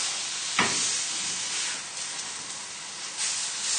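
A cod fillet frying skin side down in a hot pan, a steady close hiss and sizzle with a brief sharper crackle as the fish settles.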